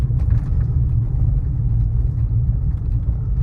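A car engine runs steadily as someone learns to drive, a loud, close, low rumbling drone that holds constant throughout with faint cabin noise and no talk.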